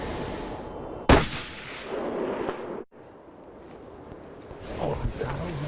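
A single rifle shot fired at a black bear roughly 320 yards off on a British Columbia hunt cracks sharply and loud, then its boom rolls away across open country beneath low background noise.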